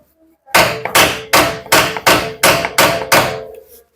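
A tight oil drain bolt on a scooter is struck in a steady series of seven sharp metallic knocks, evenly spaced and loud, each ringing briefly before the next.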